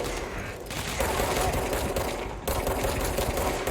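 Gunfire and grenade blasts in the game Control crackle in a dense, rapid stream of overlapping shots and thuds, with a sharp cut midway and continuous loud combat throughout.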